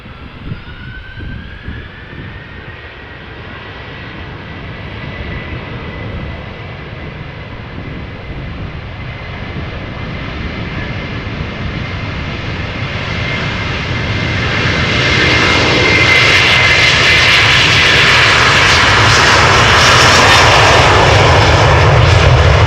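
A Delta Airlines airliner arriving at Amsterdam Schiphol approaches with a whining jet engine tone and rumble that swell steadily louder as it nears, peaking close and loud at the end with no talk.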